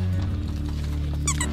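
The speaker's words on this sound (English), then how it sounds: "Hear the squeak?" A short, high-pitched squeak like a small pig's squeal rises briefly near the end over a steady low background hum, loud and close, with no talk.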